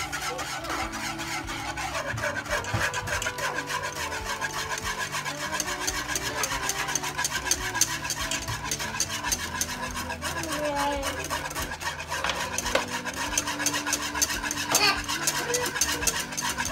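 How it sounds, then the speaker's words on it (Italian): A whisk scrapes and rasps quickly and continuously against a pot while a coffee-cocoa custard mixture cooks over the heat, steady close strokes with a faint voice beneath. "A questo punto non vi fermate mai di agitare con la frusta"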